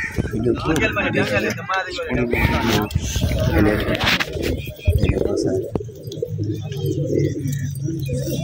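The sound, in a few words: pigeons cooing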